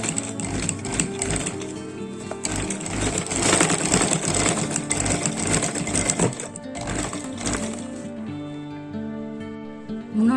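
A sewing machine stitches a border onto a jute table mat, running in a steady, continuous whir that carries close and loud for most of the stretch before easing off near the end.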